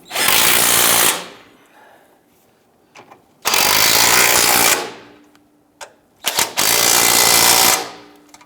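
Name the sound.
power tool tightening Ford Mustang starter bolts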